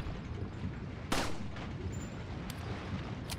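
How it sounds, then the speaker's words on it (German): Gunfire in the video game Resident Evil 4 HD: one sharp, loud shot, followed by a couple of fainter cracks over a low, steady game ambience. "Ich werde die mal versuchen, hier wegzuschießen"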